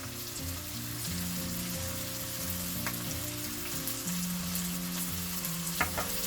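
Turkey curry sizzles and fries in a pan with chili powder and salt as a spoon stirs it, a steady close crackle with occasional scrapes and clinks, no talk.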